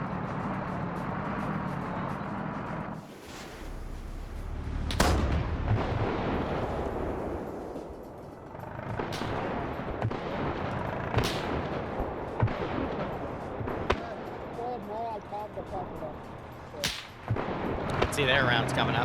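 Gunfire and artillery in a Finnish war mod game on the Raate Road, with enemy BT7 tanks advancing: loud sharp cracks and heavy booms fire at irregular intervals over a constant rumbling engine drone.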